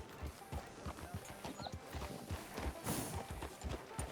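Horse hooves clip-clop at a steady walking pace in the Red Dead Redemption 2 video game, a quiet, even rhythm of soft thuds continuing throughout with no talk.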